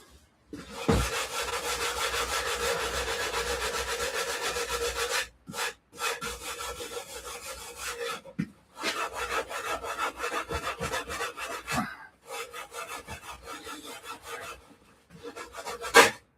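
A steel bardiche halberd blade is sanded by hand while working up the grits: long, rasping strokes in continuous bursts, close and fairly loud, broken by short pauses.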